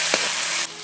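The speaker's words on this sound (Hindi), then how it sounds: "और इसको थोड़ा भून देंगे।" Turmeric and masala spices frying in a pan with tomatoes, a short steady sizzle with a brief stir scrape near the start, close and fairly loud, no talking.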